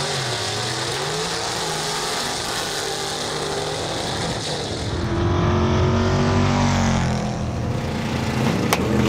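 A methanol-injected gasser drag car at a Southeast Gassers meet in Aiken, NC, roars loud and close, the engine rising in pitch and intensity as it revs and pulls away with harsh exhaust.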